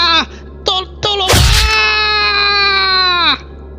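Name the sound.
death screams in dramatized story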